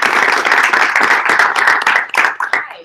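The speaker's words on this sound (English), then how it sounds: "If everyone could please give a round of applause to Professor Osborne." A small audience at a university sport administration open house claps for Professor Osborne, close, crisp individual handclaps forming a brisk round of applause that thins out and stops near the end.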